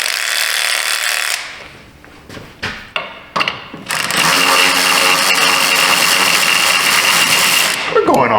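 A ratchet on a swivel universal joint works a part loose, with a few clicking strokes followed by a sustained whirring drive, close and loud, with a voice partly heard.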